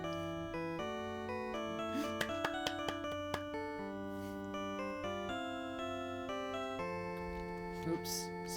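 A phone ringtone plays during an Ace Attorney: Trials and Tribulations courtroom scene, a steady chiming, bell-like melody of repeated sustained tones that runs throughout, with small clicks between notes.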